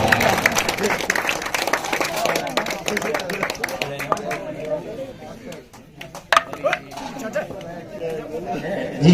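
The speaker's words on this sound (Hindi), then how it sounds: "जोरदार तालियां" Loud applause and clapping from the crowd at a cricket tournament prize ceremony in Punjab, mixed with steady chatter and voices throughout.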